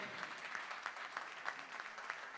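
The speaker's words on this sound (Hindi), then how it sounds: "सभी लोग जोरदार ताली बजाकर उनका स्वागत करें, अभिनंदन करें।" Audience applause rings out at a cultural festival event in Raipur, Chhattisgarh, welcoming an arriving dignitary: steady crowd clapping with sharper individual claps standing out, moderately distant and continuous throughout.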